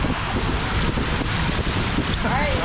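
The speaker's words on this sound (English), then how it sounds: "The wind's just holding my tube up." Steady wind gusts rushing across the microphone at the top of a waterslide at a Phoenix water park, blowing continuously and fairly loud, with faint splashing and distant voices beneath.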